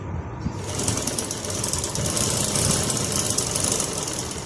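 Sewing machine stitching the shoulder seams of a simple frock, a steady close mechanical whir with a fast regular needle rhythm that starts up and runs evenly throughout.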